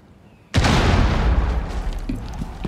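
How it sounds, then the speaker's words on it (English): A frag grenade detonates in Rainbow Six Siege: one sudden loud blast after a short quiet start, then a heavy rumbling decay that lingers to the end. "Throwing frag! Frag grenade."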